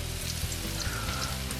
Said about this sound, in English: Be careful, especially with a hot sizzling plate.